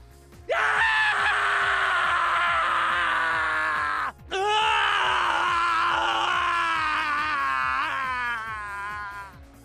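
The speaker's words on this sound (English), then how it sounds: "these voice clips were meant to be Sonic and Shadow screaming" Two long, distraught screams from Sonic and Shadow, unused voice clips from the video game Sonic Adventure 2, loud and close, the first cut off abruptly around the four-second mark, the second wavering as it trails away.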